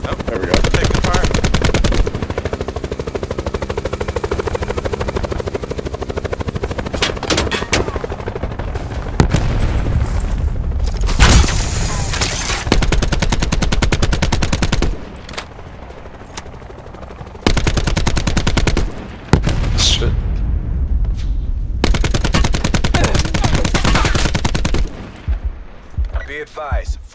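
Dense rapid automatic gunfire from the video game Call of Duty Black Ops 4, with sustained bursts, booming impacts and occasional explosions, loud and continuous with brief lulls between volleys.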